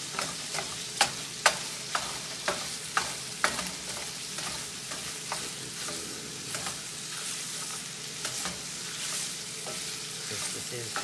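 Cut-up sausage fries in a cast iron skillet for biscuits and gravy. A loud, continuous sizzle plays under repeated scraping strokes of stirring, with regular sharp clicks early on.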